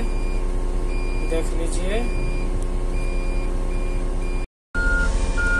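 Scania truck being loaded at an open-pit mine, with steady heavy engine rumble, repeated reversing beeps and machinery noise throughout, a brief dropout near the end, and a short spoken phrase over it.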